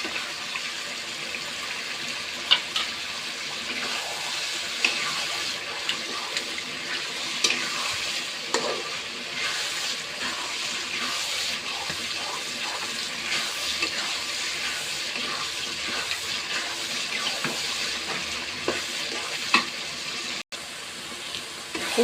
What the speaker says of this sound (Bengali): ঘন ঘন নাড়তে হবে